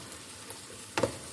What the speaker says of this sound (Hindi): लहसुन, प्याज को हम फ्राई कर लेते हैं। अदरक को भी हम साथ में ही फ्राई कर लेते हैं।